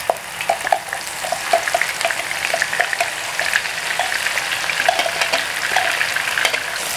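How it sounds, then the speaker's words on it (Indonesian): Ground spice paste frying with nearly cooked fried shallots in a pan, a steady crackling sizzle with stirring scrapes throughout. "ini setelah goreng bawangnya sudah mau mateng ya, saya masukkan bumbu halusnya"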